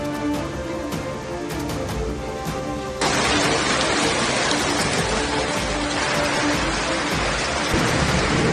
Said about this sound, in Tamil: அசாமில் பல்வேறு மாவட்டங்களில் பெய்த கனமழையால் தாழ்வான பகுதிகளில் தேங்கிய மழைநீர்.